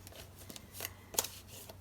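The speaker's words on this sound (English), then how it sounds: "So Speaker Pelosi, I'm just going to keep shuffling until it tells me to stop." Tarot cards shuffled by hand in short riffling bursts, two louder ruffles standing out among softer card rustles, close and fairly quiet.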